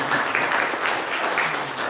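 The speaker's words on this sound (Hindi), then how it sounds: "तो इनके लिए एक बार जोरदार ताली बजाएं सबसे पहले" An audience applauds loudly and steadily, with many hands clapping throughout the short burst.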